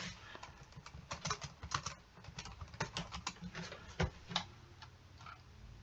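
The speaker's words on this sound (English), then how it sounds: "Let me just type in the words." Typing on a computer keyboard: quiet, irregular bursts of crisp key clicks close by, with a few harder taps among them and no voice over them.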